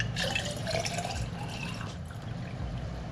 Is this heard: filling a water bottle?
yes